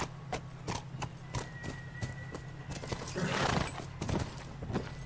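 Horse hooves from The Last of Us gameplay, a rapid clip-clop of galloping that stays fairly near and steady, with a brief snort or whinny mixed in partway through.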